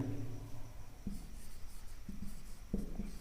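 A pen writes an English paragraph by hand on paper: soft, steady scratching strokes with small taps and pauses between words, close and quiet, with no talk.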